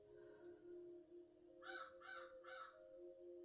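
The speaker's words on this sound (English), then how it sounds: "Did you guys hear that? That's a crow." Three evenly spaced crow caws ring out in quick succession over a quiet outdoor background with a faint steady hum.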